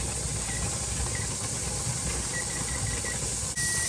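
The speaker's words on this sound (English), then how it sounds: "get a steady steam from this valve" Steady steam hisses from a pressure canner valve while venting before canning sausage and sweet potatoes, a continuous soft rushing noise close by, with a faint mechanical rumble underneath.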